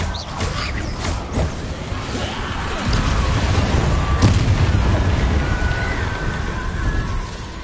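Explosive spells go off in Hogwarts Legacy, a string of loud, booming blasts and crackling impacts with sharp bursts layered over a continuous rumbling roar, close and dense throughout.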